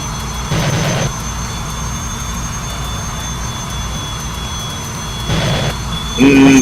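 A MiG-21 jet engine in a flight simulator game drones steadily throughout, with brief louder swells near the start and end, under a low background hum.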